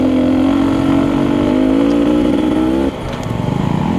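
Loud Yamaha YZ250FX dirt bike engine during a hare scramble race, holding a steady high buzzing note close by before dropping off abruptly and revving again in rough bursts.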